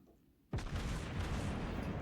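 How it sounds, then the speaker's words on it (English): Naval gunfire in World of Warships Blitz, a sudden loud boom after half a second of quiet that swells into a dense, rumbling roar of heavy guns and explosions sustained to the end. "Some gunfire on."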